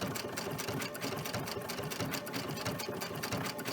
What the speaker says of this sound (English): I've got the speed down on my sewing machine so it won't go any faster.